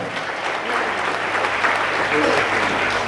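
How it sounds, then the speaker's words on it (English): Audience applause at a student felicitation ceremony with a tourism minister, sustained crowd clapping in a hall, loud and even, with some voices mixed in. "Let's give a big applause for Aslam."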